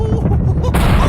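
Loud, dense cartoon explosion effect for a star blowing up into a supernova, a booming low rumble that bursts into a brighter crackling blast partway through, with no talk.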